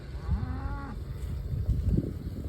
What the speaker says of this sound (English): Happy cattle on new forage.